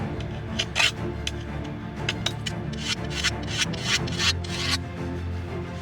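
A hand file is drawn along a chainsaw bar to smooth off the burr, giving a close series of rasping strokes in an uneven rhythm.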